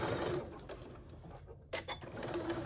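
A sewing machine stitches fabric for a trick-or-treat bag, a steady, fairly quiet mechanical whir that pauses briefly midway before resuming.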